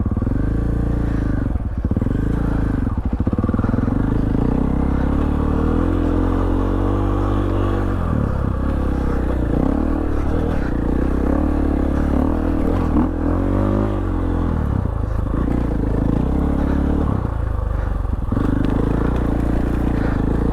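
A KTM 500 EXC dirt bike is ridden on day one of an open-roads rally, its engine loud and near, revving up and easing off repeatedly over about twenty seconds with little talk.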